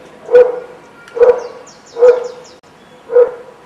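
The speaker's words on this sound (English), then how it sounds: "don't mind that dog, it's the security dog of the school." A school security dog barks four times in a steady, evenly spaced rhythm, each bark loud and close against a quiet background, with no talking.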